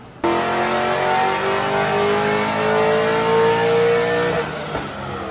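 A drift car strapped to a dyno revs hard in a long, loud, steadily rising engine pull that holds strong for about four seconds, then cuts off sharply with a brief settling rumble.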